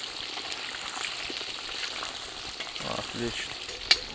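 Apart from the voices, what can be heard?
potatoes frying in a kazan over a campfire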